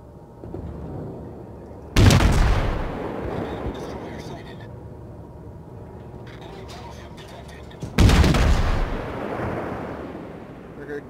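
Heavy naval gunfire in the World of Warships video game, two huge booming salvos that roll and rumble out over several seconds each, loud and close, with game ambience in between.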